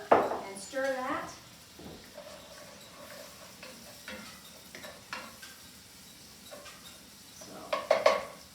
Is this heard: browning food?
yes